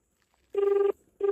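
An outgoing phone call produces a ringback tone: a steady beep lasting almost half a second, then a pause, then the next beep starting, clear and close with no talk.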